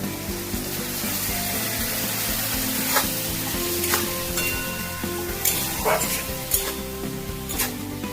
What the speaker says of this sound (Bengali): মশলাটা কষার জন্য সামান্য একটু জল দিয়ে দিচ্ছি।